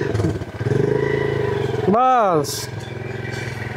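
Motorcycle engine running and revving at an e-rickshaw versus bikes pulling contest, a steady close engine drone under ongoing talk, with one rising-and-falling rev near the middle.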